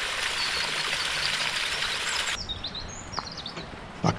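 Running water from a small woodland waterfall beside an autumn reservoir path, steady broadband rush throughout, with birds chirping nearby in brief high calls over the water.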